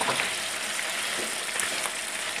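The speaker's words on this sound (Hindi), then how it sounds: "और इसे हल्का हल्का फ्राई कर लें।" Chicken frying lightly in a karahi gives a steady, close sizzle with faint crackle throughout, alone without voices.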